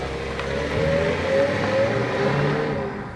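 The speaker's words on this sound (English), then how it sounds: "The Buick Regal arrives with GM's 2-litre turbocharged 4." A 2015 Buick Regal's 2-litre turbocharged four-cylinder drives steadily, its engine drone and a rising tone heard close up inside the car, with no one speaking.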